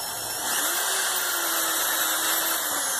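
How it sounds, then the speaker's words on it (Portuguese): A power drill bores a hole through a bamboo pole for a homemade photo tripod, a steady high-pitched motor whine with a droning hum held continuously throughout, with no talk. "Eu já vou furar uma aqui"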